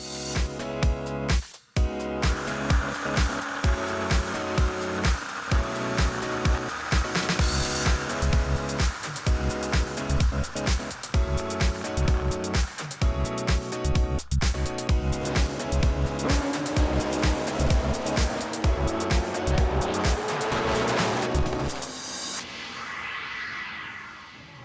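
A Top Fuel drag racing motorcycle at an FIA/FIM drag racing event roars at a steady, loud pitch for over twenty seconds, then cuts off abruptly and leaves a faint fading tail.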